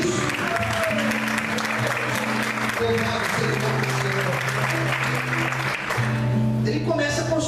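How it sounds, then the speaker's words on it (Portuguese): A church congregation applauds during a Portuguese-language sermon, with dense, sustained clapping under steady sustained musical tones, and voices mixed in throughout the whole stretch. "Você pode aplaudir e glorificar a Deus por isso."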